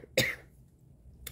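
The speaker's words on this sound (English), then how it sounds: "Sorry. This cough." A single sharp cough bursts out close by, followed by a quiet pause and the start of another cough at the end.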